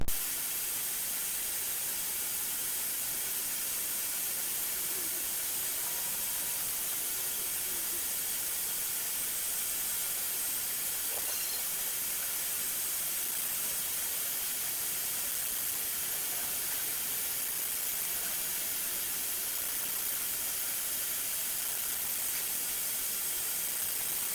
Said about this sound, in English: now let's go see if we can spray some spray.